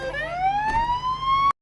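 An ambulance siren in the Police Simulator video game wails alone in a single rising electronic sweep, clear and fairly close before cutting off abruptly.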